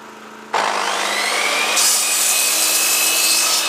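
A pipe end being cut with a hand saw, a steady close rasping stroke that starts abruptly and continues loud and even, with a brighter scraping edge joining partway through.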